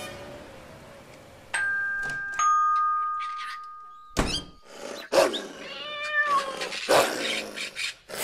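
A voice imitates cats meowing in a French children's story set at a veterinarian's, several short mewing cries alongside dings and thumps.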